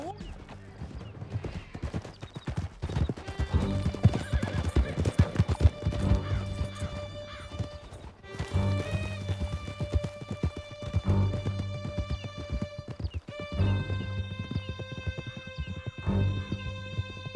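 Horses galloping hard through a canyon in Red Dead Redemption 2: close, rapid clip-clop hoofbeats drumming without pause, with occasional whinnies, a crash and voices over the ride.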